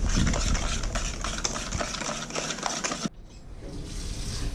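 A spoon rapidly stirs leftover idli batter mixed with sugar and a pinch of turmeric for banana fritters, a busy close scraping and sloshing that stops abruptly after about three seconds, leaving quiet room noise.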